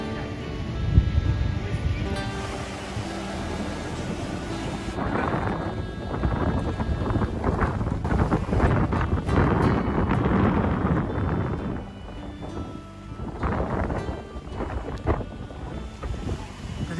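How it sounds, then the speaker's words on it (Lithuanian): Strong wind gusting across the Ventspils south pier during a sand storm, with heavy waves breaking nearby; a loud continuous roar of rushing air buffeting the microphone and swelling and easing throughout. "Priekyje siaučia audra."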